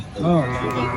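A cow at the weekly Sholakia cattle market in Kishoreganj gives one short, close, rising moo amid a background of human voices.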